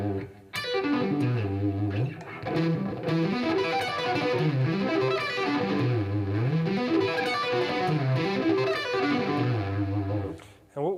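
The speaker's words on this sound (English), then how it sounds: "incorporating 2 techniques. One is sweeping across the strings, and then the other one is hammering on" A distorted electric guitar plays flowing sweep-picked arpeggios with hammer-ons, cycling up and down through the chord shapes in a smooth, continuous line, loud and upfront.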